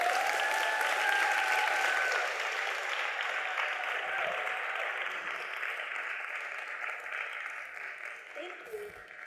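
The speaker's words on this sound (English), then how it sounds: "Let's give these incredible, courageous, gorgeous entrepreneurial leaders and leverage leaders a big round of applause." A large audience gives a sustained round of applause for a panel of entrepreneurial leaders, dense clapping that stays fairly steady and fades slightly toward the end, with a voice briefly heard over it.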